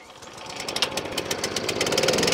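A Weebang lawn mower with a Kawasaki engine, choke on, starts and runs. Its rapid, steady firing pulses come in close and grow louder over a couple of seconds, with no talking.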